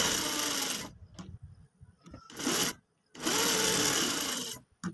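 Sewing machine stitching the side pocket of a men's suit, running in three loud whirring bursts of rapid needle chatter separated by brief pauses with faint clicks of handling.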